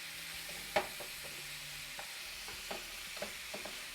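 Food browning in a frying pan gives a soft, even sizzle with occasional pops and light utensil scrapes, fairly quiet and close, without any talking.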